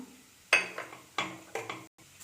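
Chopped mint leaves are stirred in a pan with chilli powder, giving four or five distinct scraping clatters of a spoon against the metal with soft frying underneath, close and moderately quiet.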